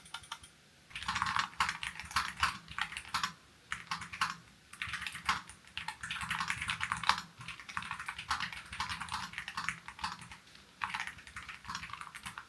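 Steady typing on a NuPhy Air60 HE keyboard with magnetic switches, a wired low-profile board, giving a continuous rapid patter of crisp keystrokes in bursts, close and alone over a faint hum.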